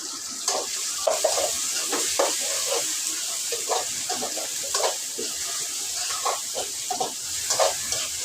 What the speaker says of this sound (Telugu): పచ్చిమిరపకాయల పేస్ట్ అయితే కొంచెం పచ్చివాసన పోయేంత వరకు వేయించుకున్నాము